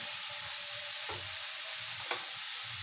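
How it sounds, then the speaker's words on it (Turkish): Apple pieces are stirred in a frying pan for cookies, with a constant close sizzle and two brief scraping strokes of the utensil against the pan. "Arkadaşlar elmalarımızı tavaya aldık. Böyle biraz çevirmiştiriyoruz."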